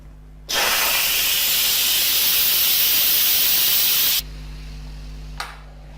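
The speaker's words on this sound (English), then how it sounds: "So we'll turn off the pressure cooker and release the pressure." An Instant Pot 6-quart 7-in-1 electric pressure cooker vents steam in a loud, steady hiss for about four seconds, then cuts off abruptly, followed by a faint brief puff.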